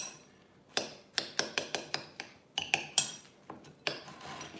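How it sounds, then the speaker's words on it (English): A spoon mashes soft cooked pumpkin in a pan, giving a run of sharp, evenly spaced clinks and taps against the metal, close and fairly quiet, with short gaps between bursts. "I am just mashing it with a spoon"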